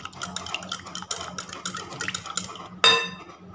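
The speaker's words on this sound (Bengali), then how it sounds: "সাদা তেলটা দিয়ে আবার দইয়ের সাথে খুব ভালো করে ফেটিয়ে নিচ্ছি।" Yogurt and white oil are whisked in a bowl, with quick light scraping and clinking of the utensil against the bowl at close range, ending in one sharper clink.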